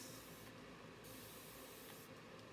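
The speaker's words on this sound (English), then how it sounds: "I'm going to spritz my canvas so this will mix." A handheld spritzer mists water onto a painting canvas in two short hissing bursts, faint and close, with no talking.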